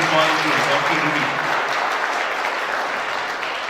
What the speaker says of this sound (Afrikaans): So kom ons gee hulle net nog 'n lekker hande klap.